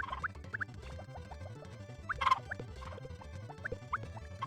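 Chickens inside the coop in the Harvest Moon: Back to Nature farming game, giving short chirpy clucks scattered over steady background game music.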